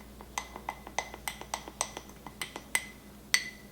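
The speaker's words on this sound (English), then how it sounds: "And then just give that a stir." A spoon clinks rhythmically against a glass while stirring a cookie butter latte made with warm milk, about a dozen light, close, bright taps in steady succession with no talking.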